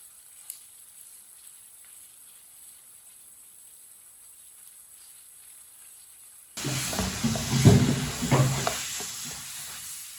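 A spoon stirs a paste in a pan on a stove over fairly high heat, with quiet near-silence at first, then a sudden close burst of sizzling and scraping stirs.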